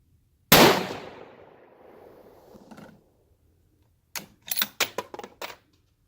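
A single loud rifle shot from a T/C Compass chambered in .223/5.56 cracks out and rings away for a couple of seconds, followed by a quick run of sharp metallic clicks and clatters.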